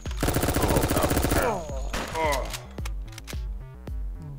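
Rapid shotgun fire in an online shooter game, a dense burst of loud blasts up front, then a sparser run of single shots over music and game effects.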